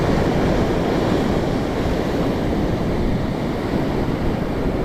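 Ocean surf and swell pound a beach ahead of a hurricane, a continuous loud wash of breaking waves with wind noise buffeting the microphone, steady throughout with no voices.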